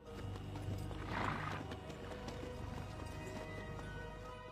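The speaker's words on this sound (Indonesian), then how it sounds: "Namun dengan santai Korpi terus menunggang kudanya," Horse ridden through a scene in an action film, with clip-clop hoofbeats and a whinny over a dense, constant background of film sound and score, moderately loud throughout.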